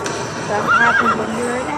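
A horse whinnies in a rising and falling neigh near the middle, over background noise with some voice-like sound; it sits in a mock death scene about a weakened, sickly jockey falling off his horse.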